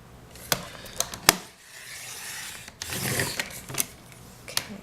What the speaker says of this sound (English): I'm gonna take my trimmer. Bring this up here. Okay. And I'm gonna go ahead and trim these down.